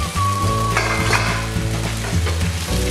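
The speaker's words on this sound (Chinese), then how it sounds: "稍微再把它拌炒一下" Softened cabbage is stir-fried in a pan just uncovered, with a loud, steady sizzle and repeated scraping strokes of a spatula close by.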